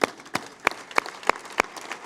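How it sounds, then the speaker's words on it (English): Applause at an aviation awards banquet, heard as a handful of loud, distinct claps at a steady rhythm about every third of a second, standing out over a quiet room. "So big round of applause"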